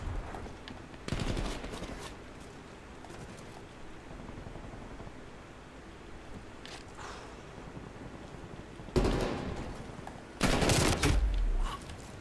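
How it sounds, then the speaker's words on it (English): Bursts of automatic gunfire from the video game Call of Duty: Black Ops Cold War, loud and close, with a burst near the start and two heavier volleys toward the end over a steady noisy background. "Sorry, I had to shoot through you."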